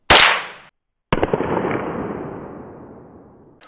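Henry .22 long rifle shots outdoors: a sharp crack, a brief silence, then a second loud report with a long fading echo trailing off before another shot begins.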